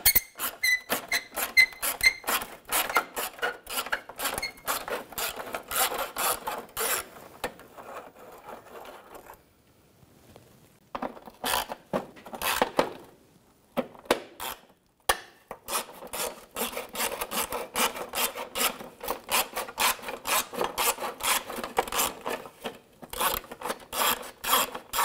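An 8 mm socket ratchets bolts out of the transmission shield on a 2006-2010 BMW 550i with a 4.8L V8, producing long runs of rapid, close clicking that break off briefly around the middle.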